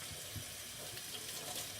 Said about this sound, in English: I'm just going to run some tap water